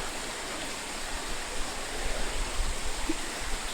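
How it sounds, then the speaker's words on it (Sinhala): A stream of water flows through a rock cave at a historic site in Sri Lanka, making a steady, full rushing roar with no voices. "මේ වතුර පාර ගලාගෙන යන්නේ ඔය ලෙන අතරින් ගිහලා තමයි එහා පැත්තෙන් විවෘත වෙලා මේ කුඹුරයට විවෘත වෙනවා"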